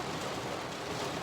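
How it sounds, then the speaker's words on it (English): Heavy rain pounding on a car, a dense, steady roar of drops hitting the body close around, unbroken and loud with no voices. "is my car the only one that's getting beat up by the rain?"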